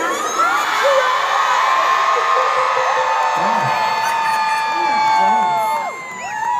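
Huge stadium concert crowd at a show screaming and cheering, a dense, loud wall of shrieks and whoops sustained throughout, dipping slightly near the end.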